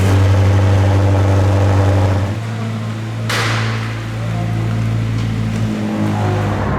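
A restored Formula 1 car rumbles with a loud, low, steady engine note that shifts pitch partway through, with a sharp clack in the middle and the engine running on afterward, no talking.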